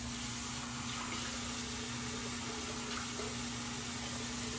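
Water runs steadily from a tap for a shaving brush, a quiet continuous wash with a faint constant hum beneath.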